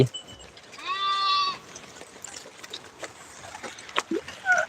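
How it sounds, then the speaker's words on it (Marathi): Sheep bleating outdoors in a flock, one clear drawn-out bleat up close followed by shorter, fainter bleats scattered through light ambient noise. "अरे बापरे बघू शकता तुम्ही आमच्या मेंढ्या"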